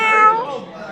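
A person voices a single drawn-out meow imitating a cat, close and loud, falling in pitch and fading out within about a second.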